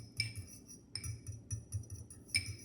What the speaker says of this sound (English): So I'm going to use my fork. Just stir a little.